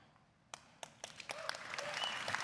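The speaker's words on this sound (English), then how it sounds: "he's struggling to get applause" Scattered claps from the audience at Ubisoft's E3 2019 press conference, a few isolated hand claps at first that thicken into faint, distant, light applause.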